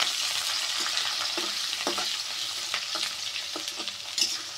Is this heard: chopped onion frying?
yes